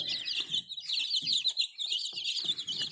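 A young chick with purple legs, a beard and feathered feet peeping rapidly and repeatedly, close and fairly loud, in bursts of high chirps with soft rustling and shuffling beneath.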